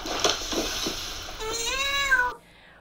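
A cat meows in a recorded pet video: a few short mews, then one long, drawn-out, rising and falling meow, close and clear, ending abruptly in near silence.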